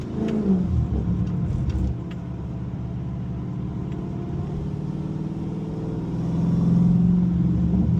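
A Dodge Hellcat engine idles with a deep, rumbling burble, then revs up louder toward the end, close by with no talk.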